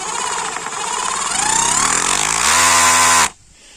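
A WORCRAFT CRH S20LiT cordless rotary hammer whirs loudly, its motor pitch rising as the speed is adjusted, then stops abruptly near the end.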